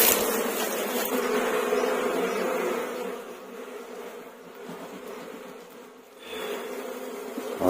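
Honeybees swarm around a beehive in a mountain village, a dense continuous buzz that stays close and steady, briefly dipping then rising again toward the end.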